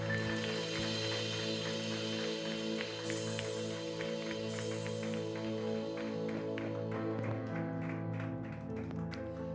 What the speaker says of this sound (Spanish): ¿Qué tal si le levanta un fuerte aplauso al Señor en esta preciosa mañana?